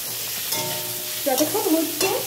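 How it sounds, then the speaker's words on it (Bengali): Rice fries in a pan with a soft continuous sizzle, broken by a few louder scraping stirs of a spatula near the middle and end. "ততক্ষণ আমি এটাকে আরেকটু ভালো ভাজা করে নিচ্ছি"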